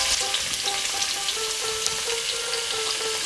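Sweet potato, radish and carrot pieces fry in an oily pan with a steady, close hiss and crackle, and a few faint tonal hums sit beneath the sizzle.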